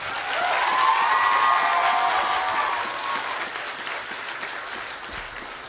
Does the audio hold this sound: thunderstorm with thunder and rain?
no